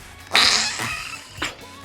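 Slime squeezed by hand, giving a short wet squelching burst followed by a second smaller squish, close up and fairly loud, like a fart noise.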